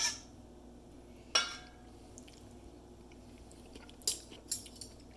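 A metal spoon clinks sharply against a dish while vinaigrette is tasted, a few bright isolated taps with ringing decay, close and clean, no voices.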